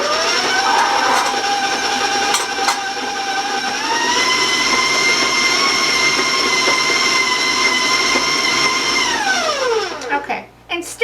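An electric mixer creaming butter whirs loudly at high speed with a steady, harsh drone, its pitch stepping up midway, then winding down near the end.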